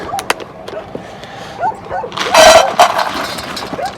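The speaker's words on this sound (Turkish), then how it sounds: "dediğim gibi Luna hemen havlamaya başladı oradan duyuyorsunuzdur şu anda" A dog barks and yips in quick bursts at moderate distance on a farm with chickens, with a louder rustling burst midway and a few whimpery calls.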